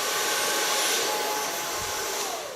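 Handheld hair dryer blowing on short pixie-cut hair, a loud, steady, close-up whoosh of air and motor hum that runs without a break.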